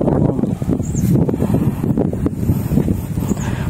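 Wind blows steadily outdoors across a chili pepper garden, a broad rushing buffeting against the microphone with gusty swells and rustling throughout, no voices.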